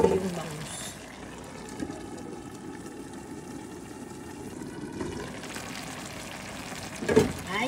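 Milkfish (bangus) cooking with vegetables and chili in a covered pan, a soft, continuous sizzle and bubbling at moderate level, with a few brief louder clatters.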